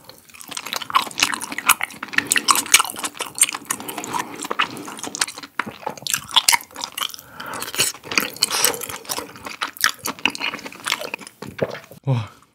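Grilled beef intestines, daechang and gopchang, are eaten close to the mic with dense, continuous wet chewing, squishing and occasional crunchy bites, loud and rhythmic throughout with brief pauses.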